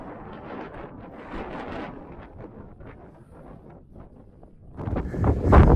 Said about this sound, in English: I'm kind of hunkered down out of the wind so that they can hear us